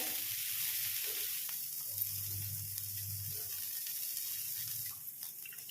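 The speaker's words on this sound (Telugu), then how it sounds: "ముందుగా తయారు చేసి పెట్టుకున్నటువంటి ఆనియన్స్ అన్నీ కూడా ఇలా పెన్నం మీద వేసుకోవాలి" Onions laid on a hot dosa pan for an oats onion rava dosa, giving a faint, steady sizzle with a low hum beneath and a few light scrapes, fairly quiet and close.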